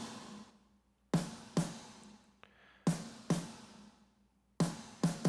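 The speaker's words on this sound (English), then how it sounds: "the two snares together sound like this" Loud, snappy hits from two layered snare drums, about eight strikes in an uneven pattern, each sharp crack followed by a short ringing decay, heard alone.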